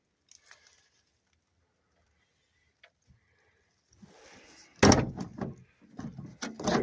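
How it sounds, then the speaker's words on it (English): The door of a 1973 Ford Gran Torino in a salvage yard is worked over several seconds of rustling, then shuts with a loud, solid thump. Rattling follows, and a second thud comes near the end. "See if we can get that door to close a little better."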